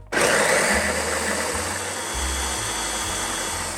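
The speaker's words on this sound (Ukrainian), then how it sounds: "Закриваємо блендер та подрібнюємо все до однорідного стану." A blender kicks on abruptly and whirs at high speed, its motor pitch wavering slightly as mandarins are chopped smooth.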